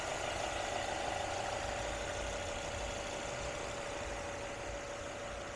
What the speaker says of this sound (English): hear it run very smoothly